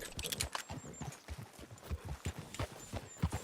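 Horse hooves clip-clop at a quick, uneven trot in Red Dead Redemption 2, close and clear, with faint jingling tack and a brief whinny-like sound mixed in.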